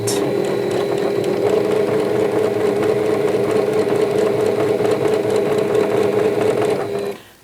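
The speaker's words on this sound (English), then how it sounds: "Now I'm going to grab the strip and I'm going to sew that." A sewing machine stitches a strip of fabric for vintage scrappy Christmas ornaments, running in a steady, continuous close-up whir for about seven seconds before stopping abruptly.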